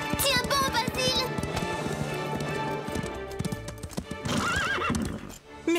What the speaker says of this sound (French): Je ne comprends pas ce qui arrive à ces chevaux.